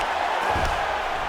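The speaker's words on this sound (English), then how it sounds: "Another strike gets through from the top position." A strike from top position lands in an EA Sports UFC 5 video game fight, one dull low thud near the middle, heard over a constant loud arena crowd roar.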